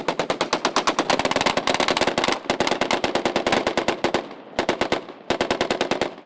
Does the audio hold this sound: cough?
no